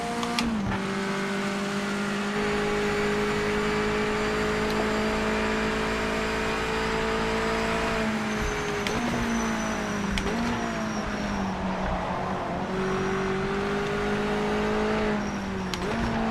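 A Mazda MX-5's engine revs steadily in a racing video game, its tone rising through the gears with brief dips at the shifts, loud and continuous throughout.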